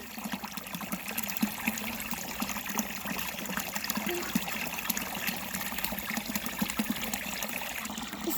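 Steady trickling water runs continuously from a spring in Ukraine, a close, even babble with no voices.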